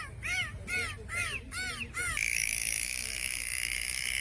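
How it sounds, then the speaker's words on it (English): Kookaburra call sped up into a squeaky, dolphin-like chatter: four rapid bursts of rising chirps, then a steady high-pitched hiss after the calls stop. "It's actually a sped-up version of the kookaburra bird."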